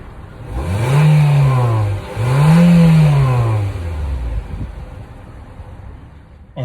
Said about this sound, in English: Let's go ahead and take this car for a drive.